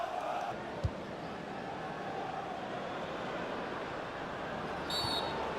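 Stadium crowd noise from a FIFA 17 Burnley vs Liverpool match, a steady broad roar of fans clapping for a substituted Liverpool midfielder, continuous and moderately loud with a brief thump near the start.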